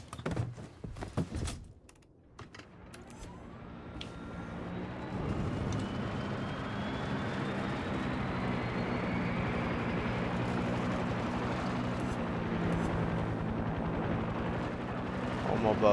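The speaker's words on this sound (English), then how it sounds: "Repairing my helicopter" A helicopter in Far Cry 6 being repaired: a few sharp knocks give way to a steady, loud rotor and engine drone that rises in pitch and then holds for the rest of the stretch.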